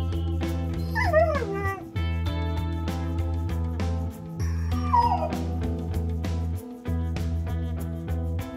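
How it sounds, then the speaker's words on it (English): A cartoon-style dog yips and whimpers in a few rising and falling cries, clear and close, over a steady musical backing in an English vocabulary lesson. "Dog."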